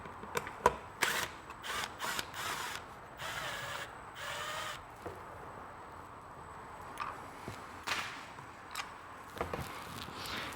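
A power tool removes fasteners from a modern Vespa scooter during teardown, giving short, quiet bursts of drill or ratchet whirring with sharp clicks and clanks between them, heard close up with no voices.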